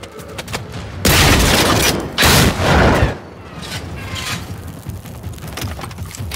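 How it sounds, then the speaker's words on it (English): Gunfire in the video game Generation Zero: bursts of heavy automatic shots, a long loud volley followed by a second rattling burst, then quieter scattered mechanical sounds afterward, no speech. "Ow, stop shooting."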